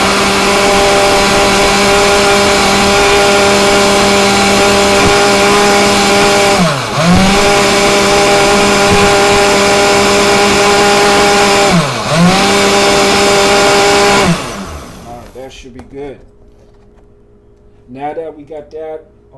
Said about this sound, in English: Got that all blended up in the blender.